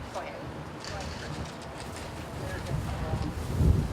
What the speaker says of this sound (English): Yes, it's windy.